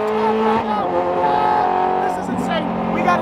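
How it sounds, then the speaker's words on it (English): Ferrari 430 Challenge race car driven through traffic in the rain, its engine droning steadily close up with rising and falling revs, while a person talks over it throughout. "We're driving a 430 Challenge in traffic in the rain."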